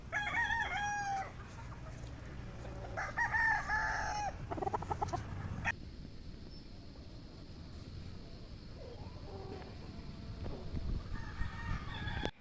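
Chickens cluck and a rooster crows in bursts at a game farm, with a steady high insect-like drone and farmyard background noise in between.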